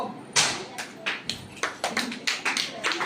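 Hand claps at a birthday gathering, a scattered burst of applause with sharp, uneven slaps that builds into quick overlapping bursts, fairly close.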